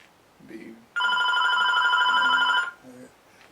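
Telephone ringing indoors during an interview, one loud, bright, rapidly trilling bell ring lasting under two seconds, with faint speech-like sounds just before and after.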